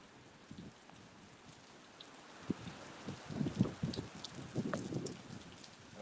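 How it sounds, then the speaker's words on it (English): Steady rain from Hurricane Milton pours down with a constant wash of noise, punctuated by louder splashes and drips hitting nearby surfaces, growing heavier toward the end. "Yeah, it's raining like a bitch."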